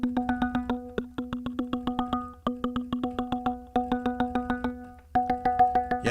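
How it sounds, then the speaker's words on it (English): Synthesizer notes struck in a steady, repeating rhythm, each with a sharp attack and quick decay, the key velocity opening and closing a low-pass filter so the brightness shifts from note to note; clear and close, with no voices. "the timbre of the sound changes depending on how hard I hit the key"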